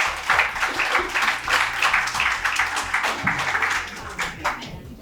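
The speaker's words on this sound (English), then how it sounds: "Clap for Yashashvi." An audience of students at an English academy competition claps for a classmate, a lively, uneven burst of hands with some voices mixed in, rising and thinning over a few seconds.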